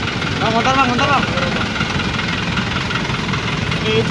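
Motorcycle engine idling and running nearby at a residential driveway among luxury cars, a steady mid-low rumble with a few rising revs, while people talk over it.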